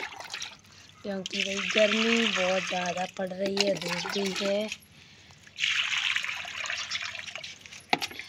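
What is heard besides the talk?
water being poured into bird water containers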